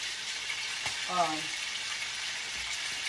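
A beef roast sears in a pan with a steady low sizzle and spatter that stays faint and even throughout. A brief voice sound rises over it for a moment.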